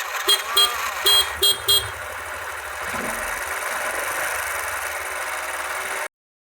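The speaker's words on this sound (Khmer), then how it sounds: "បុរសនោះក៏ជិះម៉ូតូលោកតាទៅបាត់ទៅ" A newly bought motorcycle is ridden away: several short horn-like toots come first, then a steady mid-pitched engine drone holds at an even level until it cuts off abruptly.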